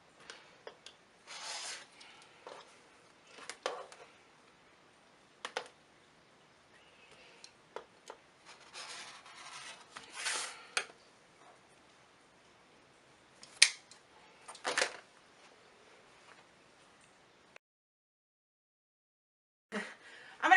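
Scissors cut through cloth squares for wipes and napkins in a quiet room, in short bursts of snipping and rustling fabric separated by pauses.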